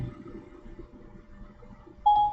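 An iPhone 7 gives a short, bright Siri activation chime near the end, following a stretch of quiet room hum.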